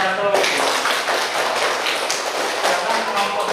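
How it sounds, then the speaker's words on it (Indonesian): Classroom applause for a student group in an elementary school lesson, a dense steady clatter of many hands clapping together for a few seconds. "Tepuk tangan buat kelompok 1"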